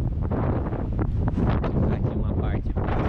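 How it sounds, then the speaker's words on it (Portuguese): Strong wind gusts buffet the microphone in an open hillside spot with a playground and homes among the mountains near Barnard Castle, a loud continuous rumble with no talk. "o vento tá bem forte, galera"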